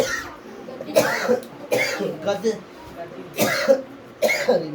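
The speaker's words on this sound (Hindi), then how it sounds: "खांसी आने लगी" Several sharp coughs in a row, close and fairly loud, spaced across a few seconds.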